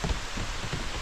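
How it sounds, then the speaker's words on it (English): Heavy rain pours down outdoors in nature, a dense, steady hiss of drops striking surfaces close by, loud and continuous with no voices. "It started to downpour now."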